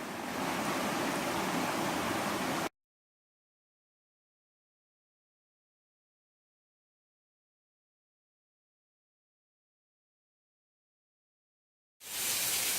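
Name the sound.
water poured out of a canteen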